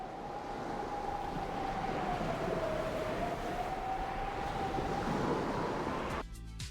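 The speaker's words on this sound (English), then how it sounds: "That's a little bit of high altitude wind and some sea sounds." Rocky beach soundscape with a steady wash of sea surf and high-altitude wind, continuous and fairly even at moderate level, with a faint tonal whistle running through it and a brief change near the end.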